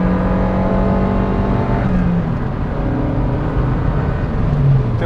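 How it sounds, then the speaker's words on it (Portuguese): Two-litre turbocharged four-cylinder of a Lancia Delta Integrale Evo 2 pulling hard under load, a steady loud engine drone with harmonic tones shifting around two seconds, heard from inside the car. "Motor continua a 2 litros, turbo, e de vez em quando carrega, acontece isto."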